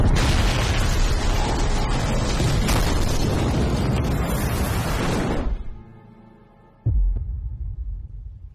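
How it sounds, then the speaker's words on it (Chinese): A shipyard explosion in a crime drama erupts as a loud, sustained roaring blast for about five seconds, then fades to a low rumble before a second heavy thud hits and decays. "什么爆炸了？"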